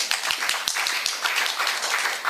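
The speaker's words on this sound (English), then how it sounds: "Let's give them a big applause." A small indoor audience claps for a team of reporters back from covering an earthquake, a short burst of scattered, close handclaps with a few sharp individual claps standing out.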